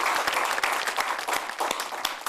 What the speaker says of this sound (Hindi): आपकी हिम्मत के लिए एक बार जोरदार तालियां बजाना चाहता हूं।